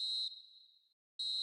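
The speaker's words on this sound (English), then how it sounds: "Added time is up, and there goes the whistle." A referee's final whistle ends a football match between Bayern Munich and an opponent, sounding as a steady shrill tone that fades, breaks off briefly, then resumes loudly, with no voices over it.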